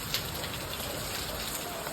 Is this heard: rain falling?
yes